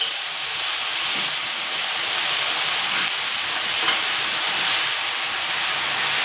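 Amaranth leaf curry fries in a pan with a continuous loud hissing sizzle, faint scraping from the stirring showing through at times, and no voices.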